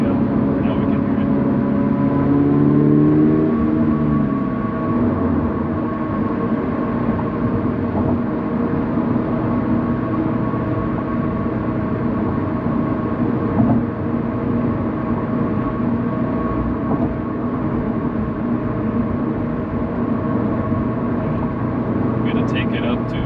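A BRZ/GR86 fitted with an HKS Legamax Premium axleback exhaust revving up under light throttle, a deep droning exhaust note rising in pitch then holding steady, with someone talking over it.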